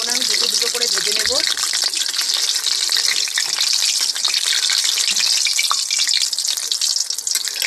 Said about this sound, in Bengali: বেশি তেলে দেবো না, আমি দুটো দুটো করে ভেজে নেব।